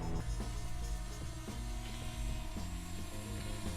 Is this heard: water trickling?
no